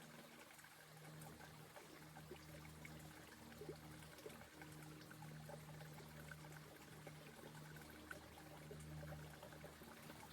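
Water poured from a container and filtered into bottles at a dry trail camp on the Pacific Crest Trail, a steady close trickle and pour running continuously with a low background hum.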